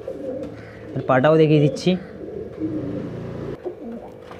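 A pigeon in a bird shop gives low soft coos close by, mixed in with someone talking.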